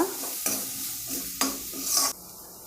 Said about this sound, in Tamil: ஒரு 6 காஞ்ச மிளகாய் போட்டிருக்கேன். நல்லா இது வதங்கட்டுங்க.